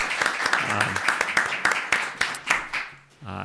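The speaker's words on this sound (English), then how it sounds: "a little small round of applause is appropriate" A small round of applause from attendees at a Haldane school board meeting, a few seconds of scattered, sharp claps with voices talking over them before the clapping fades out.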